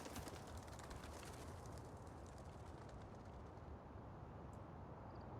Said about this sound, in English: I'm pretty sure that's a pigeon.